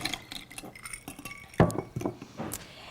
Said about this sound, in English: I make some ice water, and then I'm just going to pour the water portion out